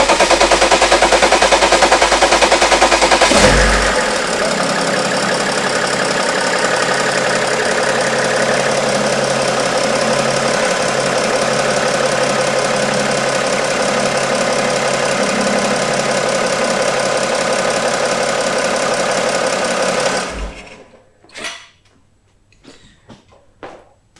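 A BMW 335d diesel with the M57 engine cranks and fires after an oil service, then settles into a loud, steady clattering diesel idle that runs for about twenty seconds before shutting off, followed by a few faint knocks and clicks.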